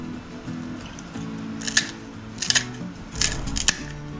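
A handheld kitchen chopper cuts green chillies in short, crisp clicking snips, about four or five of them spaced unevenly over a low, steady background hum.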